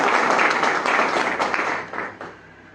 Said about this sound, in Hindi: जोरदार ताली बजाकर अपने जिलाध्यक्ष का स्वागत करें।